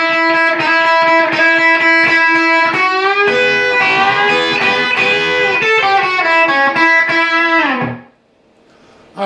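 Distorted electric guitar plays the third measure of the lead from a song, mixing open and fifth-position phrases with sustained bends, loud and solo before a sudden stop.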